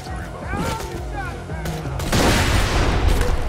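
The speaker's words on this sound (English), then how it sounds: "Okay, so this is the one shotgun that I have to reload." Shotgun blasts in the Borderlands video game, a powerful explosive-round weapon, booming several times in quick succession amid dense game noise, growing louder and heavier in the second half.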